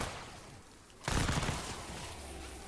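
An assault rifle in Fortnite Save the World opens fire on husks in a sudden dense burst of rapid shots after a quiet moment, then a sustained rattling roar.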